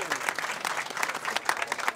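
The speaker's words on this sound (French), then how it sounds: "Je vous demande d'applaudir pour ces gens-là, s'il vous plaît." An audience at a community charity gathering applauds, with dense, steady clapping from a nearby crowd throughout the short stretch.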